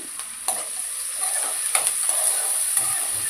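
Green chilies go into onions already frying for jeera rice, bringing a loud close hiss and crackle of oil with several quick stirring scrapes.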